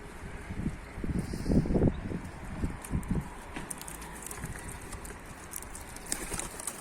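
Soft low cooing from pigeons, repeated in short bursts, with faint rustling and scattered higher chirps in the background.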